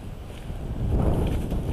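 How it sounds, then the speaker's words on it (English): Wind buffets a microphone outdoors. It makes a loud, low, rumbling roar that swells over the short stretch, with no voices heard. "Sorry for all of the wind."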